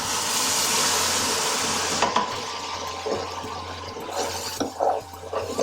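A ladle of base gravy poured into a hot pan of 5 spice vindaloo curry, giving a steady loud sizzle and bubbling hiss that settles into softer stirring and spattering.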